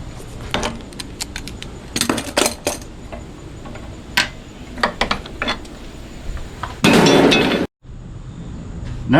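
A hammer knocking a brass clean-out cap from a cast iron sewer pipe during a house repipe: sharp metallic strikes in irregular bursts, close by, followed by a longer scraping clatter near the end.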